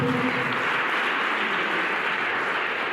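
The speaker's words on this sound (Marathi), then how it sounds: "टाळ्या वाजवा, टाळ्या वाजवा." An audience at a talk about a school superintendent working for tribal children's development claps in a steady, dense wash for the full few seconds, loud and even, with no speech on top.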